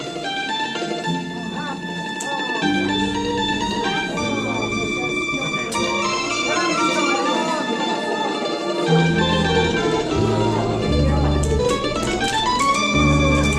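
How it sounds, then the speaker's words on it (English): Melodic Italian mandolin music with quick tremolo notes over a steady bass and chordal backing, full and continuous with no talking. "from every window you hear Italian music played by a mandolin"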